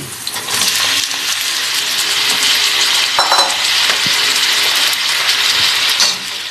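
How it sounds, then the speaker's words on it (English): Potatoes frying in a pan for a cheese Spanish omelette, a loud, close, continuous sizzle with a clink or stir partway through, then the hiss fades near the end. "Now put potatoes in pan."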